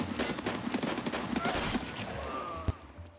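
Rapid gunfire in the first-person shooter Escape from Tarkov: dense, close bursts of shots crackling steadily for about three seconds, with one heavier sharp report near the end.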